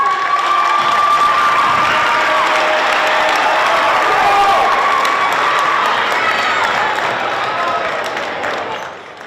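A big crowd in a high school gym at North High School in Worcester, Massachusetts, for a state tournament basketball game, loud sustained cheering, shouting and applause that fades slightly toward the end.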